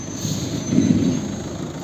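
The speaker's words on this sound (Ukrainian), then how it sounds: "Так, дивимось, як працює двигун" A 2010 Volvo V50 1.6 diesel engine idles with a low, steady rumble, continuous with a faint high whine above it, no voices present.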